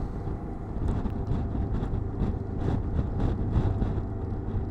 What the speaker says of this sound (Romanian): Ne mută vântul de pe drum.